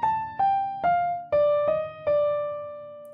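Six keyboard notes step downward from a high starting pitch in an ear-training melody, each struck cleanly and fading, the last one held and ringing out alone.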